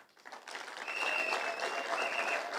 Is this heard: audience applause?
yes